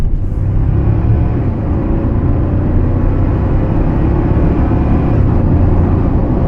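Constant low engine and exhaust drone from inside a moving 2024 Toyota Tacoma pickup with a turndown exhaust pipe at about 55-60 mph, a loud steady rumble with road noise and no change in pitch.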